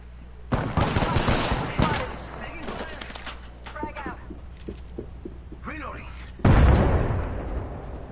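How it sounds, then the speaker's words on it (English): Dense bursts of automatic gunfire crackle through a round of the video game Apex Legends, several volleys with a heavy loud stretch near the end, while players talk over the shooting. "People shooting?"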